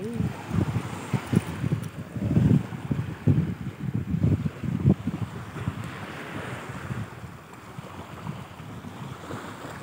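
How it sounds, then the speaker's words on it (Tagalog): Strong wind roars across open sea during a fishing outing aboard a small boat, with surf and waves washing steadily throughout, loud buffeting gusts on the microphone, and occasional voices faintly in the mix. "Ang lakas ng hangin din kasi."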